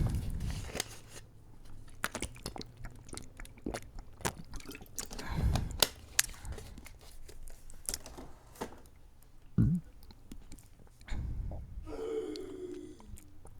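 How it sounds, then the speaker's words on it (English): Water being drunk from a glass or bottle, with soft liquid pours, trickles and sips spread through a noisy room, a sharp intake of breath near the end. "Let me give me a drink of water."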